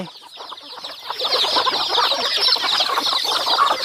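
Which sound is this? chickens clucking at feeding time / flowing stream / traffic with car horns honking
chickens clucking at feeding time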